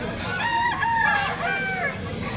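A two-year-old rooster crows loudly and close at a chicken sale in Consolacion, Cebu, a drawn-out call with rising and falling tones, followed by a second shorter crow.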